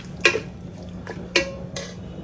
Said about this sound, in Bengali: এতে দেখো এবার আমরা মটনটা এরকম করে কষাচ্ছি।